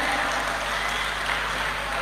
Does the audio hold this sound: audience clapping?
yes